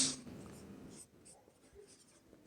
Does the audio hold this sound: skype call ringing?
no